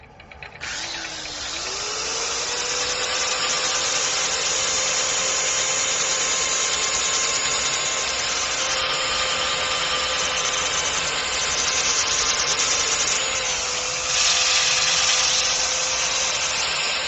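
A wood lathe spins up and runs steadily during sanding, giving a continuous close broadband whir with a steady motor whine that lasts throughout and grows briefly louder near the end.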